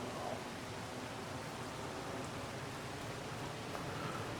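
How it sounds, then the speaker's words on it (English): Steady, even rain hiss in the video game Farming Simulator 25, with no breaks, a dense wash of droplets falling throughout, moderately quiet and uniform. "Oh, it is raining."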